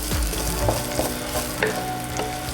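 Garlic sizzles and crackles steadily in a hot pan as it fries for a pork and chicken adobo, with occasional clinks of a utensil stirring against the pan.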